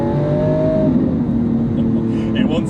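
A Lamborghini Aventador S with a 6.5-litre V12 and single-clutch gearbox accelerates hard, its engine droning loud and steady with a shift-like change in pitch near the end.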